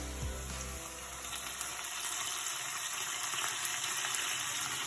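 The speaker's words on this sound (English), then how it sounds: "I'm going to add a little bit of water from the pasta." Starchy pasta water hits a hot pan, bursting into a loud hiss after a brief low pour, then settling into a steady sizzle that carries on alone.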